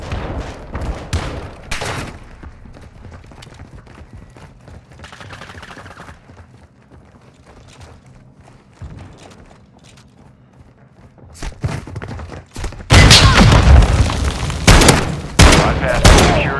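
Call of Duty MWII combat: bursts of automatic gunfire and sharp shots, a quieter stretch with scattered pops, then a loud sustained barrage of fire and booms near the end, with radio voices talking in between.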